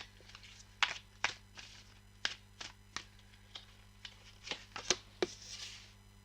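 Tarot cards are shuffled by hand in a quiet room, with a series of sharp riffles and soft slaps spaced irregularly, close and fairly crisp.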